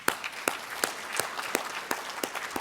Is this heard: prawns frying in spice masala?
no